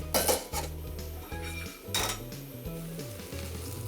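Pieces of fried karaage chicken clatter and scrape in a metal pan with starch-thickened sauce, with repeated knocks of a utensil against the pan and a faint sizzle underneath.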